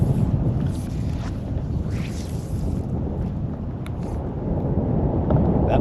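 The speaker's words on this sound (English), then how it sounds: "That wind is getting chilly." Chilly wind buffets the microphone outdoors on water during paddleboard fly fishing, a steady low rumbling roar with gusty swells and no talk.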